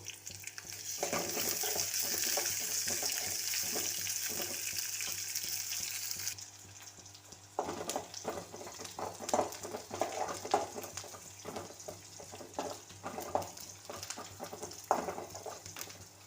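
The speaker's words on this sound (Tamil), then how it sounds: "வெங்காயம் நல்லா வதங்கட்டும்." Onions sautéing in a frying pan for a simple lunch box recipe: a steady close sizzle, stronger at first, punctuated by repeated scraping stirs of a spoon against the pan, with no talk.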